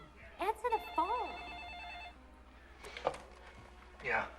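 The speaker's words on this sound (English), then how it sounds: "Answer the phone." A telephone rings in a domestic scene, its bell-like tone sounding in a short burst near the start, followed by people talking.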